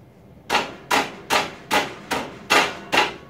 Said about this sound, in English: we're going to take this hammer